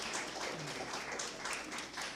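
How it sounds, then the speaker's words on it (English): An audience applauds participants at the 2024 Brainiacs finals, a steady dense wash of clapping from many hands that holds at a fairly even level throughout, with no pause or build. "Let's give a round of applause to all of our 2024 Brainiacs participants."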